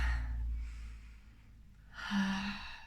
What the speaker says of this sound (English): let's just take a few minutes to breathe